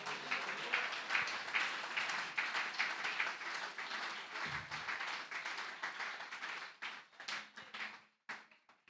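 A church congregation breaks into sustained applause and clapping for the Lord during a baptism sermon, a dense crowd sound that carries steadily before thinning out and stopping near the end.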